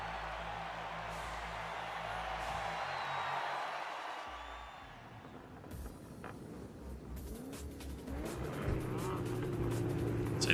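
Car engines drone in a racing video game on a Daytona-based format, a steady high-pitched motor whine rising and shifting as vehicles pass, with a crowd-like wash in the background.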